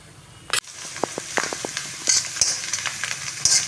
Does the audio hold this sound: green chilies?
yes